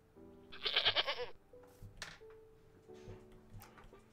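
Goats bleat in the survival game TerraFirmaCraft, a loud wavering cry near the start followed by several softer, shorter bleats amid faint game ambience.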